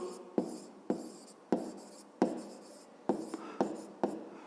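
A pen or chalk writes out a fifth-grade maths exercise in short strokes, each starting with a sharp tap and then scratching briefly, about eight strokes in an uneven rhythm. No one speaks.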